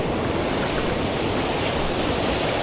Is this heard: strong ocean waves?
yes